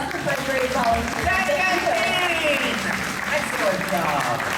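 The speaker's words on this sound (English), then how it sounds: "How about a big round of applause for my brave volunteers?" Audience at an outdoor bird show at Disney's Animal Kingdom applauding volunteers, a loud sustained crowd clapping close by, with whistles and voices mixed in.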